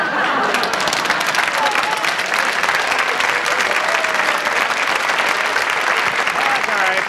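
Studio audience applause on a late-night television talk show, a dense, steady roar of clapping that stays loud and close for the whole stretch, with a few voices calling out within it.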